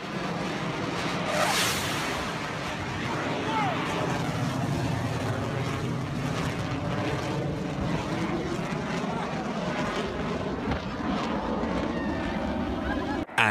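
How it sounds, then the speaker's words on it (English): A loud, continuous roar of a large military plane passing close and fast over a runway, broadband engine noise holding steady throughout, with a brief sharp rise at the very end. "one pilot surprised everyone with a high-speed flyover."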